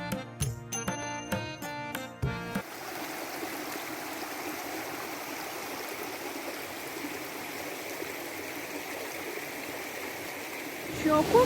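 A waterfall in the Vosges mountains, the Cascade du Frémont area, pours as a steady, dense rush of water that runs unbroken for most of the clip after a short stretch of music at the start.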